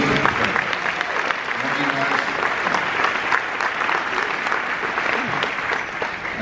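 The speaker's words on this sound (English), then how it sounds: "Give me a round of applause." Sustained applause from an audience at the Canadian Red Cross Humanitarian of the Year award event, dense steady clapping filling the whole stretch at a fairly loud, even level with a few voices mixed in.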